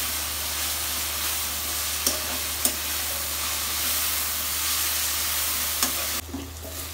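Chicken frying in oil over a low flame for chicken chilli dry, a steady close sizzle with a few faint clinks of stirring.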